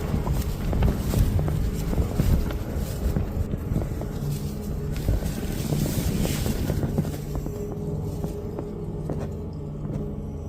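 Strong wind buffets the microphone outside a campsite at night, a continuous loud roar with gusty surges and scattered rustling thumps.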